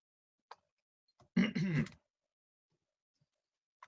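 A single rough cough and throat clearing from a man, brief and close in an otherwise quiet room, with a few faint clicks around it.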